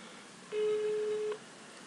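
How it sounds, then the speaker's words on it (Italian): A single telephone ring tone sounds as a studio phone line is called during an Italian radio broadcast, one steady, clear tone lasting just under a second and heard alone over faint room noise. "Squilla tutto, però."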